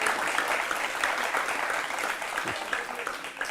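Studio audience applause on a program about the Ayodhya Ram temple, steady dense clapping heard at moderate distance, with faint voices beneath it.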